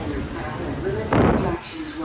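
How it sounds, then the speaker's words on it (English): A door swings open at Chicago Union Station with a short, loud thump in the middle, set against steady station hubbub and a murmur of voices. "So this way, open the door, boom."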